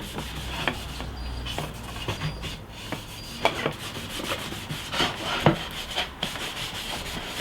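Cloth rubbed lightly over reclaimed pine boards to apply wood dye, a steady close-up scratchy rubbing with rhythmic strokes and no talk.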